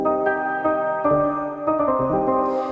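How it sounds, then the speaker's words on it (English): Trap Keys 01, a Serum synth keys preset from the X Keys bank, plays a sustained chord with clear harmonic layers, shifting to a new voicing around the middle, with soft airy noise added near the end and no talking. "I've loaded up a preset from our X Keys SERUM bank."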